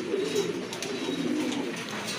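Fancy pigeons coo softly and continuously close by, a low murmuring call that carries through the whole moment with no talking over it.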